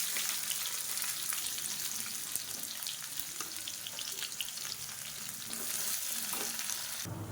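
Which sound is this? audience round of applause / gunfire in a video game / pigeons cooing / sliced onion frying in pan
sliced onion frying in pan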